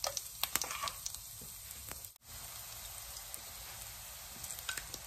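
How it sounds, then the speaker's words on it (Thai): Pounded garlic frying in hot olive oil in a pan gives a faint, steady sizzle with a few soft pops. The sizzle briefly drops out about midway, then resumes. "กระทะร้อนใส่น้ำมันมะกอกนะคะ ถ้าร้อนนะคะก็ใส่กระเทียมโขลกนะคะ"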